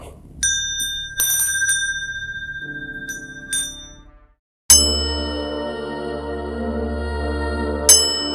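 A bell is struck several times in a sparse sequence, each bright metallic ding ringing out with a long decay. A louder, fuller clang lands midway, then another strike near the end, with no voices.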